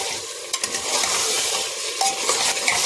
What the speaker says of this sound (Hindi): अब इसमें अदरक लहसुन का पेस्ट डाल के भून लेंगे।